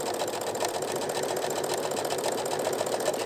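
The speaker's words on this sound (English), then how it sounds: "you're just going to continue to stitch" A sewing machine stitches steadily over fabric, its fast, continuous motor whir loud and close throughout with no pauses or voices.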